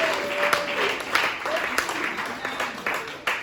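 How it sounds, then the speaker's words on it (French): A church congregation at a worship service applauds, dense clapping throughout with voices mixed in, fairly close and steady for a few seconds. "acclame Jésus-Christ de Nazareth"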